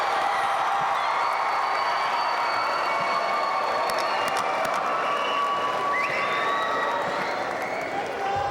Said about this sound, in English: Let's give the graduates of 2019 a round of applause.